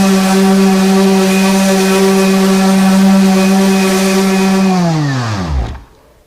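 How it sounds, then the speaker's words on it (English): A Porter-Cable electric random orbit sander runs with a loud, steady, close buzzing whine, then the motor is switched off and winds down in a falling pitch to silence. "one of the dominant sanders in woodworking is the random orbit"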